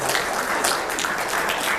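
Steady round of audience clapping for the debate participants, an even patter at moderate volume with no speech on top.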